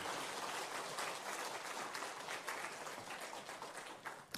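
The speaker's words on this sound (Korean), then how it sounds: "나오실 때 박수로 축복하고 환영하겠습니다." Congregation clapping in a church during a Sunday service, a dense, steady round of applause heard from a distance, fading slightly toward the end.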